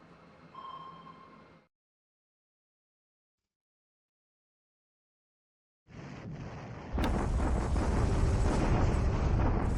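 Torpedoes strike and sink a cargo ship during a naval battle in the War in the Pacific Admiral Edition strategy game. A short faint tone is followed by silence, then a loud, deep rumbling blast that swells and sustains to the end.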